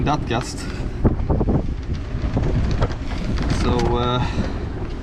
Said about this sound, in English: with this wind I don't feel like leaving the boat